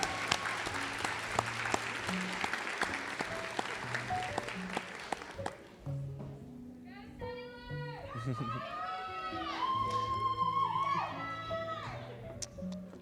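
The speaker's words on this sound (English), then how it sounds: "Let's give a round of applause for our N4 Lambeth students." An audience applauds students at a nursing white coat ceremony, steady broad clapping for the first half, then fading as a speaker talks over light background chatter.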